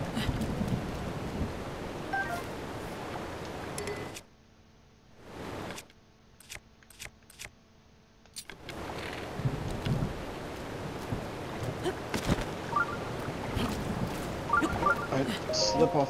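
Steady rain hisses in Zelda: Breath of the Wild, a dense, even wash of falling water that drops away briefly midway before returning, with a voice talking over it.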